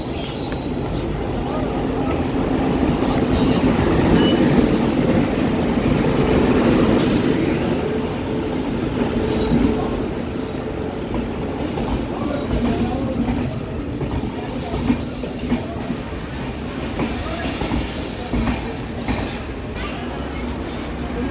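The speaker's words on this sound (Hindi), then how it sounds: "और फाइनली हमारी ट्रेन प्लेटफॉर्म क्रमांक 3 में आ रही है।" The Patna Ahmedabad Express, train 19422, rolls into platform 3 of a Central Railway station, a loud sustained rumble of wheels and cars with some squealing and clatter, and a voice speaks briefly over it.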